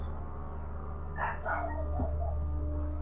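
A dog barks a few times in the background of a room with a steady electrical hum, short muffled yips and barks coming from somewhat far off.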